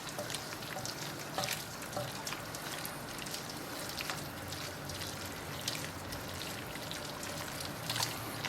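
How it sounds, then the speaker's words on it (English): Cacio e pepe pasta being stirred vigorously in a pan, giving a steady wet sloshing, bubbling hiss throughout with small splashy clicks and no talking. "we want to keep vigorously stirring it because this will affect the consistency of the final sauce"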